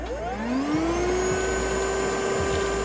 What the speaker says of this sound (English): you can get one of these minivans with an integrated vacuum cleaner